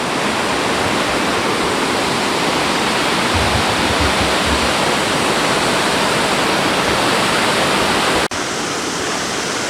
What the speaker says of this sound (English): Not really a falls, more a big cascade.